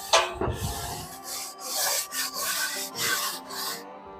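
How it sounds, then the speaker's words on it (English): Wire brush scrubbing manure off the wooden roost surfaces of a chicken coop, a close series of rough rasping strokes in an uneven rhythm after an initial scrape. "Then I'll hit it with the wire brush."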